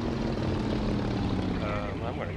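A plane's engine drones steadily throughout in a video game, with a continuous propeller-like roar under a person talking.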